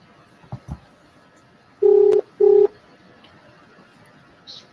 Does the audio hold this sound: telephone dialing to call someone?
yes